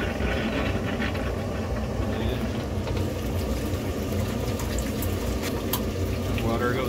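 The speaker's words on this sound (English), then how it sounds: "And then we turn on our cooling water." Cooling water runs steadily through a homebrew immersion chiller in wort, a continuous broadband rush of flowing water with a faint low hum, even and moderately loud throughout.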